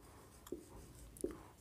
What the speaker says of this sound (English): So let me write here.